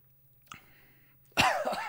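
A single harsh cough bursts out after a hot, warming drink, loud and close, following a soft breathy sound and a stretch of near silence.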